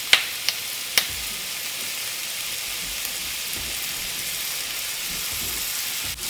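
Tofu frying in oil in a pan, a constant bright, close sizzle with a few sharp clicks and pops early on and a louder clatter near the end.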